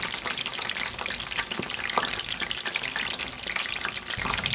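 A water lily (shapla) chop frying in hot oil sizzles steadily at close range, a dense, even crackle with small pops and no speech.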